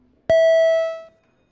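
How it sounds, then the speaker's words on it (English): A single electronic bell tone sounds on the Senate floor to summon senators for a roll call. It is clear and loud, holds steady for nearly a second, then cuts off in a quiet chamber. "could we please ring the bells?"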